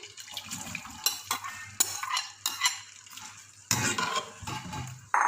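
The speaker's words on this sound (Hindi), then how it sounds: "सबसे पहले हम देगची में घी डाल के उसमें प्याज जो है वो लाइट ब्राउन करेंगे।" Ghee-fried onions browning in a cooking pot for Sindhi biryani, heard as a steady close hiss broken by repeated scraping and clattering of a spoon against the metal, with louder bursts of stirring near the end.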